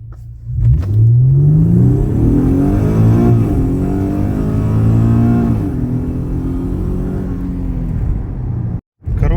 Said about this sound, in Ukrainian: Чуєте, як мотор шепче?